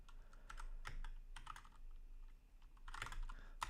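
Keystrokes on a computer keyboard with a sticky minus key, tapped in short irregular clusters with quiet gaps between, close-up and fairly soft in a quiet room.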